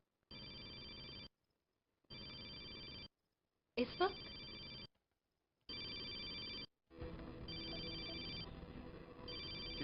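A telephone rings in repeated long bursts separated by short silences, a voice briefly speaking over one ring before it continues.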